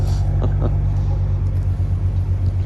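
A 2021 Audi RS5's exhaust drones with a deep, steady rumble, low and loud throughout, with a couple of faint brief noises on top.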